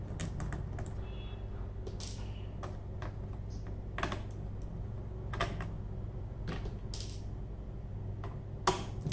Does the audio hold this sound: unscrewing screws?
yes